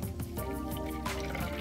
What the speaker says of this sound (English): Now let me add the vinegar.